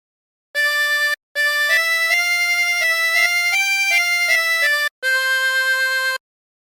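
The Squid Game theme is played on a 20-hole tremolo harmonica as a clear sequence of sustained, wavering reed notes in two phrases separated by short pauses, close and alone.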